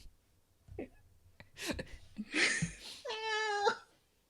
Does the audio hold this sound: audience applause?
no